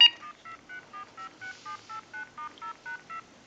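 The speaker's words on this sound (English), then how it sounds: "And we'll hit redial." A quick run of about a dozen redial keypad tones from an AT&T 5450 cordless telephone under repair beeps in an even rhythm, each short and clear, with nobody talking.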